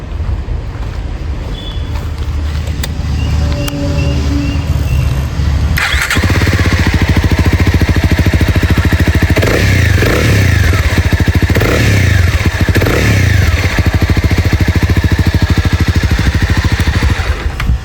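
A Honda CB300R 300cc motorcycle idles with a low throb, then its engine is revved repeatedly in several rising bursts, loud and close, the exhaust note barking between throttle blips.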